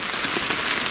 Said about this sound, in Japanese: 雨漏りひどい、すっごい、ほぼ雨漏り